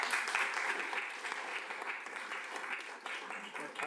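Audience applause at a city council hearing, a sustained dense wash of many hands clapping, fairly distant and moderately loud, holding steady for several seconds with no talk over it.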